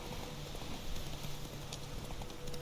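Horse hooves clip-clopping in a steady gallop rhythm while riding in The Witcher 3, moderately loud and continuous over a dense game soundscape, with no talk.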